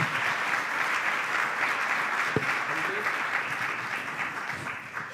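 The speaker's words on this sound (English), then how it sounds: "please give the panelists a round of applause" Sustained audience applause for a conference panel, steady dense clapping throughout that fades slightly toward the end.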